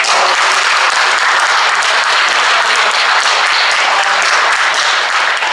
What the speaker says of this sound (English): give a little hand of applause here